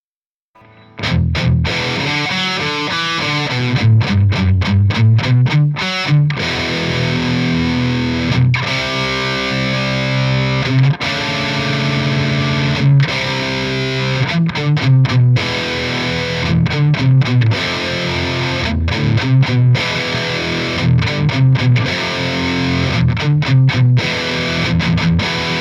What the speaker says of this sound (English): just using the amp's built-in distortion.